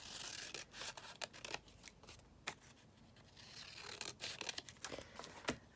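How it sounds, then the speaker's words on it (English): Scissors trim a narrow paper strip during a vintage ephemera craft session, making a series of crisp, close snips and rustles spread irregularly across a few seconds. "I might have to just trim that down slightly more"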